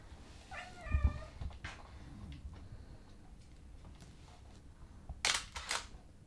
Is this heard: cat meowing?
yes